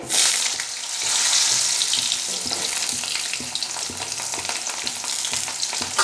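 Potato pieces drop into hot oil with panch phoron for a mixed vegetable dish, setting off a loud, steady sizzle with rhythmic scraping and stirring strokes throughout, close and without talk.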